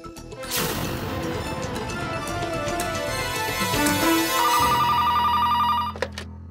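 A telephone rings out in an Indian TV drama as someone calls a college, a repeating electronic trill rising over loud, dense dramatic music before cutting off abruptly.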